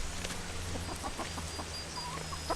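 Light Sussex chickens clucking softly in short, scattered calls over a steady windy background outdoors, several birds close by.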